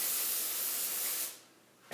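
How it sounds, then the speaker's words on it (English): Lubricant sprays from an aerosol can onto a garage door spring in one steady, close hiss that fades out near the end. "we lubricate the spring just by spraying the lube on top of it"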